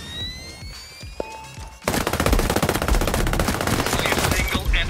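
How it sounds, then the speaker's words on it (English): Automatic gunfire in the Ghost Recon Breakpoint video game begins with a sudden loud burst of sustained rapid fire after a quieter stretch with brief tones and a thump. Dense continuous shots dominate to the end. "Hostiles are shooting"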